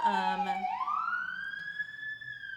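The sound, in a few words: ambulance siren passing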